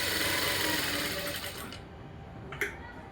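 Sewing machine stitching the outline around a blouse lining, a steady rapid mechanical whir close up that slows and stops partway, followed by a brief sharp click.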